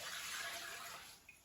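One litre of water poured into a saucepan in a home kitchen, a faint, steady gushing stream that tapers off briefly at the end.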